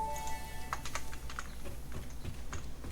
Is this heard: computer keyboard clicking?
yes